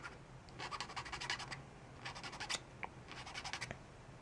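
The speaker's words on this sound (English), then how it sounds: "We're going to sand that up real quick." A custom LEGO Star Wars clone sniper rifle piece is being sanded. Quiet, rapid rasping strokes come in short rhythmic bursts separated by brief pauses, close and soft.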